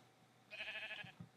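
One short sheep bleat from a Minecraft-style video game, a quiet nasal call lasting about half a second, followed by a couple of soft low thumps.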